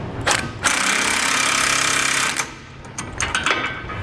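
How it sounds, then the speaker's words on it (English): An impact wrench drives hitch bolts with a 22mm socket on a 2018 Ram 3500 during a Curt trailer hitch receiver install, a loud sustained rattling burst followed by a few short bursts up close. "I'm going to use a 22mm socket. I'm going to go ahead and tighten these into place."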